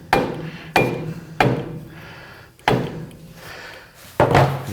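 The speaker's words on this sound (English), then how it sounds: "Give us just a little persuasion tap here." A hammer taps an axle shaft into place on a 1982 Chevrolet C10 rear axle during bearing work, five sharp metallic blows at an uneven pace, close and loud, each with a short ringing tail.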